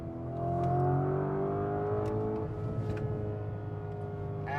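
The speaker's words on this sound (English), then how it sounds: "you can listen to that V8 engine burble, gurgle" Lamborghini Urus SE hybrid super-SUV with a V8 engine, burbling and gurgling as it works down through the gears, a steady, loud, close rumble with layered harmonics that lasts throughout with no talking.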